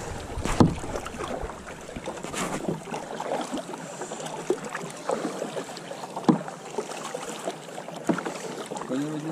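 Paddling a small boat on Lake Tisza near Tiszafüred, with repeated oar or paddle strokes splashing through the water over steady wind and open-air background, no talking.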